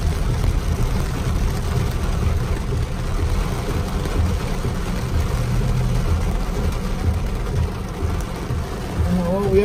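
Very heavy rain from a thunderstorm at Big Bear Lake, California, drums on a car roof as a dense, constant roar heard from inside the vehicle, loud and unbroken throughout.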